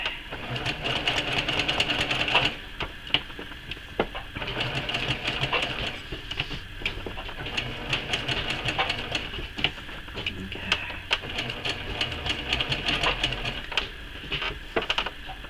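A sewing machine in need of oiling runs in steady bursts while stitching a quilt block, a fast mechanical whirring and ticking with slight knocking, close up, pausing briefly between runs.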